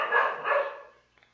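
A dog barks twice in quick succession, fairly loud and close, then fades into a brief quiet tail with a faint yip at the end; no talking over it.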